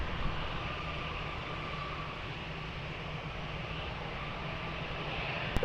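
Aircraft landing at Lisbon Airport, heard as a faint, steady engine roar and broadband rumble that holds evenly from a distance throughout.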